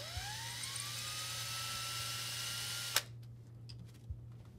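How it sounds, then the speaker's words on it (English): A drill boring holes with a 1/8 inch bit during a MAAX Utile shower wall panel installation, a steady whine rising in pitch for about three seconds before stopping abruptly, followed by faint clicks and quiet handling. "Drill the holes with a 1/8 inch drill bit."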